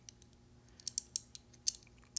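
Door of a 1970 Ford Torino GT catching as it opens: a scattered run of faint, sharp creaks and ticks with irregular rhythm, close up and quiet, no voices.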